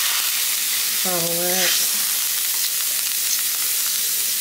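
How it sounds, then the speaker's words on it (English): Broth mixture being stirred in a hot pot gives a steady, loud sizzling hiss throughout, with a single brief spoken word partway in. "Stirring the broth mixture."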